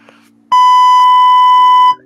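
A loud, sustained electronic beep holds steady for over a second after a brief click, then cuts off cleanly.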